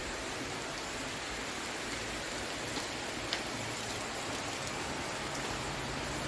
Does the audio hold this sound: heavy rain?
yes